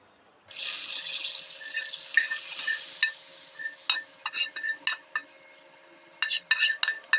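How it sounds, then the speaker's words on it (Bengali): Fried red garlic tempering is poured into sour mango masoor dal, a sudden hissing sizzle followed by clinks and scraping stirs of a utensil against the pot, close and fairly quiet. "এখন ডালের মধ্যে রসুনগুলোকে ঢেলে দেবো"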